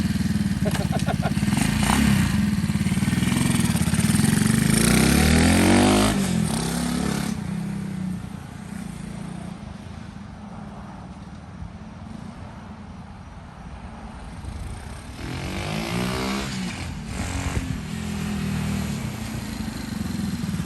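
A Honda CT70 minibike with a swapped-in Lifan engine rides past and revs, loud at the start, fading to a distant drone, then returning with clattering acceleration as people talk.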